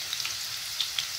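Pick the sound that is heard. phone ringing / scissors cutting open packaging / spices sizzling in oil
spices sizzling in oil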